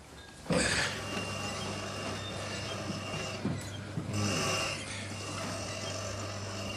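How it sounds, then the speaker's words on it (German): A washing machine with a rubbing fault runs with a low steady hum, broken by intermittent scraping and clunking noises, fairly faint and with no talking. "Die Waschmaschine, da schleift was."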